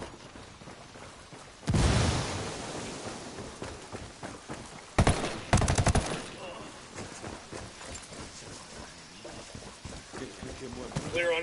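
Ghost Recon Wildlands gameplay: two heavy grenade blasts burst out a few seconds apart, each a loud broadband boom with crackling debris, amid scattered gunfire, movement noise and voices talking.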